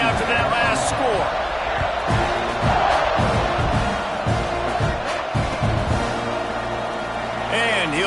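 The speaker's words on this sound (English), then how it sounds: "this crowd is buzzing after that last score." A football stadium crowd roars and buzzes after a score, a dense, sustained wall of cheering and chatter with a broadcaster's voice talking over it.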